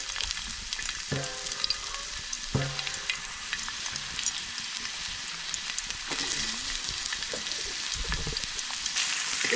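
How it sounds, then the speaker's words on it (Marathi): Chopped onion fries in hot oil with a constant bright sizzle, close up, broken by a few clanks and scrapes of a spoon stirring the pan; no one speaks. "कांदा चांगला भाजून घेते."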